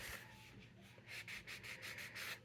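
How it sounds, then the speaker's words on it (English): A small hand sander rubs the edges of card stock, soft raspy strokes in a quick rhythmic run of several passes, close and quiet with no talk. "I may take my little sander too."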